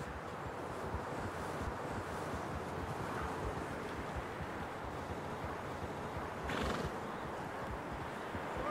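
Horse neighs and hooves clip-clop in the Red Dead Redemption 2 video game, a steady trotting rhythm under wind-like ambience, with one louder, brighter whinny-like burst near the end.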